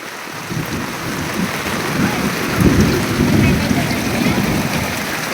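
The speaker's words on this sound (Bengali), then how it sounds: "বৃষ্টি হইতেছে গাইস, দুনিয়ার বৃষ্টি" Heavy rain pours steadily on a rural home in Tripura, a dense broadband hiss with a low rumble of thunder swelling in the middle and fading again.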